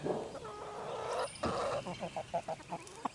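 Roosters of Americana descent on a backyard flock, a series of short, rhythmic clucks in quick succession toward the end, following a stretch of mixed bird calls at moderate distance.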